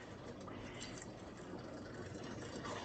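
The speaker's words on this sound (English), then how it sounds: "There was some water from the cabbage. I'll just pour that over there." Water left over from cooked cabbage is poured into a pot of kielbasa sausage, potatoes, carrots and onions, making a short, steady splashing and trickling sound, close and fairly soft.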